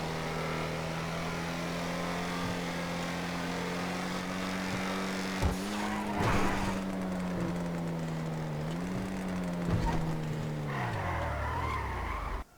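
A tuned car in GTA 5 drives with a steady engine drone and a long continuous tire skid, the engine pitch dipping and falling near the end before cutting off, with no talk.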